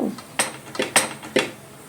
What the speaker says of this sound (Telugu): మొత్తం అంతా అన్నంకి పట్టేలాగా కలుపుకోవాలి